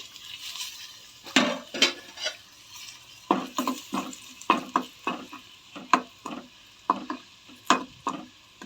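Hot oil sizzles softly as curry leaves, garlic, turmeric and dried red chillies temper in it, while a spoon scrapes and clinks against the pan in quick, irregular strokes.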